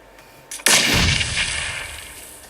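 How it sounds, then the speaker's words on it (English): A grenade detonates in PUBG: a sharp, loud blast strikes suddenly and rolls into a long, rumbling, hissing decay that fades slowly over two seconds, preceded by a faint muffled thump. "And here come the grenades."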